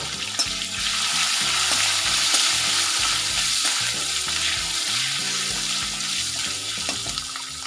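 Green chillies, cumin, asafoetida and curry leaves fry in hot oil for a carrot and capsicum curry, giving a steady, close sizzle with crackles and pops, along with some stirring and faint running water, and no speech.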